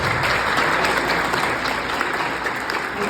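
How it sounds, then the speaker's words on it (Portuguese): A roomful of people claps steadily and loudly for the staff, a dense continuous applause with no voices over it. "por gentileza, palmas para eles."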